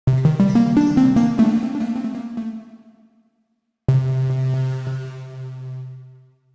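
Finished synthesizer glass keys patch with two delays and reverb: a quick run of bell-like notes trails off into a fading echo, then after a short silence a single low sustained chord rings out and slowly decays, heard alone.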